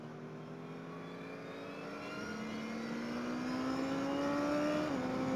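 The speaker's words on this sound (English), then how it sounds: "second gear, and normally just drive through here, accelerate hard." A BMW RR motorcycle accelerating hard in second gear, engine pitch climbing steadily and growing louder over several seconds before a brief dip near the end, heard alone without talk.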